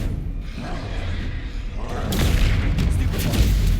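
A Confringo blasting spell in Hogwarts Legacy sets off a deep, rumbling explosion that swells after a quieter low hum and sustains as a loud, broad roar to the end.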